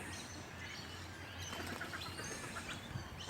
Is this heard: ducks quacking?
yes